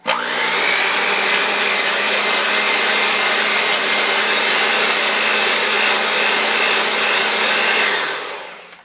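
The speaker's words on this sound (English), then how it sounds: "I like to use the whisk attachment on my hand mixer" A hand mixer with a whisk attachment whirs steadily through hot chocolate powder, a loud, close, continuous motor whine that holds for about eight seconds before spinning down, with no talking.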